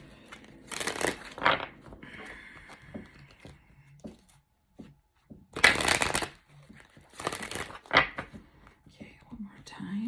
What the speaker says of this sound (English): Pull out some oracle cards here